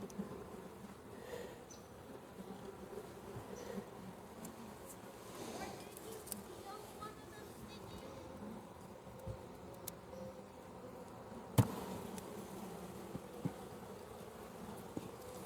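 Honey bees buzzing around an open hive with capped queen cells and larvae, a faint steady insect drone with occasional small clicks and handling knocks, and people talking quietly nearby.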